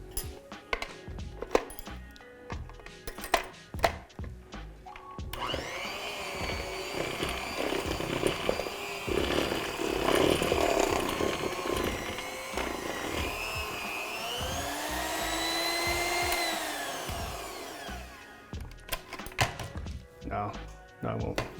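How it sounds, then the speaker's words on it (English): An electric hand mixer whirs steadily through chocolate mayonnaise cake batter, its motor pitch rising and shifting for about twelve seconds, bracketed by kitchen clinks and a person talking before and after. "We get this electric mixer going."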